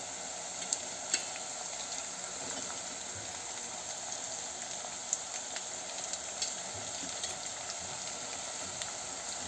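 Onion and green chillies sizzle in hot oil with already-fried carrot, a steady soft frying hiss with faint crackles, low and continuous with no talking.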